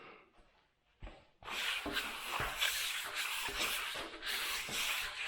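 A float rubs a pinch of black powder around on a concrete countertop during polishing, giving a steady close gritty scrubbing with rhythmic strokes after a few light taps at the start.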